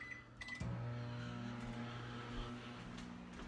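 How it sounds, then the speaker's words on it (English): A crusty home microwave oven gives a couple of quick beeps and then settles into a steady, low humming drone that stays faint throughout, with no talking. "even if my microwave is really crusty, we're just gonna set that in there"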